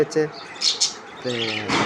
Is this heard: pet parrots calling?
yes